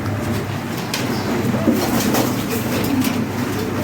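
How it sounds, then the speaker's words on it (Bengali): A fancy pigeon coos in low, repeated throaty rolls, close by and prominent over a faint background hum, with no speech. "এ খুব ডেঞ্জারাস কবুতর কিন্তু ভাই"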